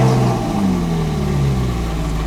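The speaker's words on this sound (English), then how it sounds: "Foot on the brake. And then press engine start." A car engine at an exotic car show, alongside a Camaro SS and Viper GTS, catching and settling into a loud, close rumble whose pitch sweeps down slightly as it steadies, with no talking.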